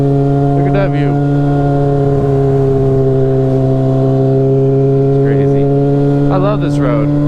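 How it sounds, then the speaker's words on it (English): Honda F4i sport motorcycle riding along a small road, its loud exhaust holding a steady, strong engine drone throughout, with a voice speaking briefly over it. "how loud this exhaust is"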